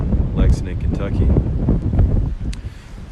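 Wind buffets a microphone in a horse-farm training barn field in Lexington, Kentucky: loud, gusty low rumbling throughout, with a person talking over it.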